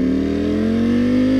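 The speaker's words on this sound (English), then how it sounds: "Or any sound this motorcycle makes." A 2018 Ducati Panigale V4R engine revs loud and close, a strong buzzing tone that climbs slightly in pitch across the short burst with no voices.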